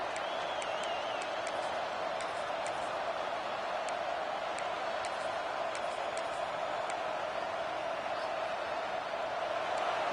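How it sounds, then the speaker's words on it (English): A football stadium crowd at a Georgia vs Oklahoma game roars in a steady, loud, unbroken wall of noise to help its defense, with faint sharper cheers rising above it. "Listen to this crowd just shaking the girders of this place, trying to help their defense."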